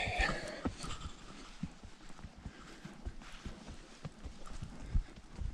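Hooves of a horse clip-clop steadily through a horseback ride, quiet and somewhat distant, with even footfalls against soft background noise.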